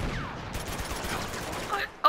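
Rapid gunfire from a shootout in the video game Uncharted 2: Among Thieves, a dense, continuous volley of shots with a sharper burst at the very end.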